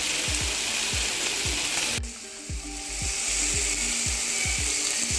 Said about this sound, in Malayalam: ഇതേപോലെ എല്ലാ ചിക്കൻ പീസും നന്നായിട്ട് കുക്ക് ചെയ്തെടുക്കാം.